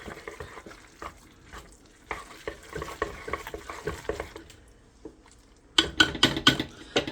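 Shepherd's pie filling with cream of mushroom soup stirred in a pan, uneven spoon scrapes and soft thick squelches, then a burst of sharper clattering knocks against the pan near the end.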